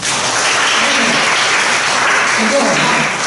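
An audience at a Taiwanese-language award ceremony breaks into loud, sustained applause, a steady crackle of many hands while a voice carries on talking over it.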